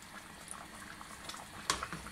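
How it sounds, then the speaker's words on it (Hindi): Rice and peas for aloo matar pulao bubble in water in a pot, a soft steady simmer of small pops and gurgles with one brighter splash near the end, quiet and close with no voices. "इस तरह ये बॉयल होते रहेंगे, इसमें बबल्स आ रहे हैं"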